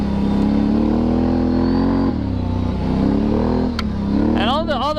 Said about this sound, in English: It's so so easy riding a four-wheeler.